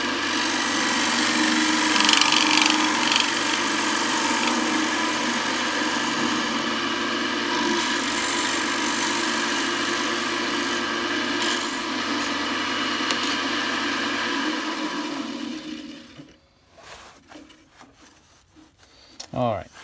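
Wood lathe turning a live edge bowl as a gouge rides the bevel across the cut, a loud steady motor whine and scraping hiss for about fifteen seconds before winding down to quiet.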